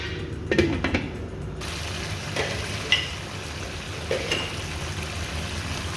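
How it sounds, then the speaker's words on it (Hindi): Beef karahi frying over high heat, a steady close sizzle with occasional clinks and scrapes of stirring against the pan, continuous throughout without talk. "आंच तेज़ कर देते हैं और इसकी भुनाई करते हैं"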